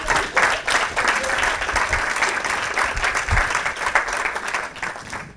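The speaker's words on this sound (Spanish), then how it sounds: "Un aplauso para Pedro, sí, sí, sí." An audience breaks into sustained applause at a talk event, a dense, even wash of many hands clapping that holds steady for several seconds without speech.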